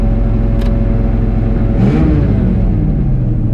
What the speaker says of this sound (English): The truck's running fine.